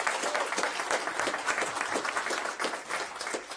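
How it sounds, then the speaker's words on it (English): Steady applause from an audience at a school board meeting, a continuous, moderately faint patter of many hands clapping for several seconds with no talk over it. "So please, can we give a round of applause for her first?"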